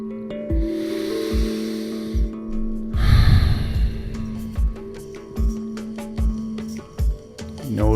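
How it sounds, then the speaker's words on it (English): Slow, deep breaths during a guided breathwork session, each a long airy inhale or exhale repeated at a steady pace over a sustained musical drone, with a louder rushing breath near the middle. "Breathing nice,"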